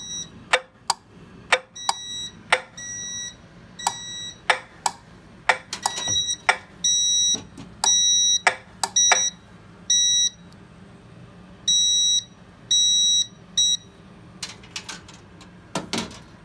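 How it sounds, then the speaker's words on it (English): A smoke detector alarm on a Simplex 2901-9806 fire panel gives repeated electronic beeps in short bursts and longer tones, an irregular pattern of piercing high-pitched signals with clicks between. "I'm going to activate the smoke detector for this part."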